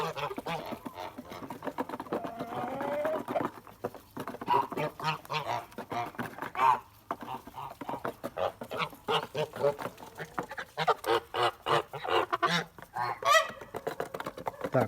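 Kholmogory geese by a stream honk loudly and repeatedly, with overlapping nasal calls from several birds close by, in dense bursts that barely pause.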